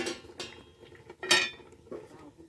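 A metal lid is set onto a pan of rice flatbreads (bhakri) as they cook, giving a few sharp clinks and clatters, the loudest near the middle, close and quiet with no talk.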